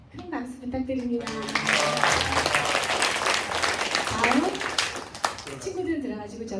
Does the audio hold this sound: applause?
yes